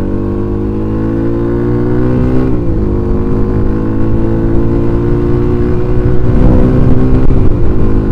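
Close, loud idle of a Flame 150x motorcycle engine, a steady droning rumble with a brief dip and rise in revs near the middle, heard alone without talk.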